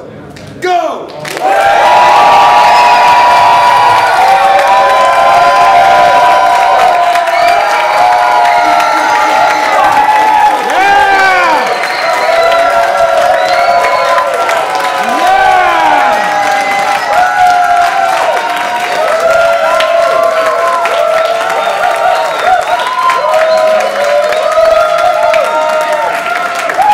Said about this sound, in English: I want to see this applause-o-meter break the scale, okay?